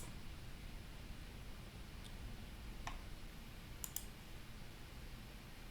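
A few sharp, isolated computer mouse clicks spread across a quiet stretch with faint background hiss, heard while working in admin settings software.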